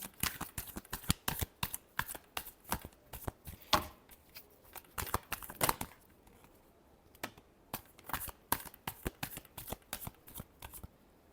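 Tarot cards are shuffled by hand in quick, repeated riffling bursts, crisp papery flutters with short pauses between runs, close and fairly soft, with no talking.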